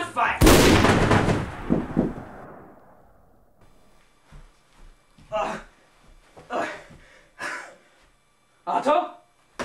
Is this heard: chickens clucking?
no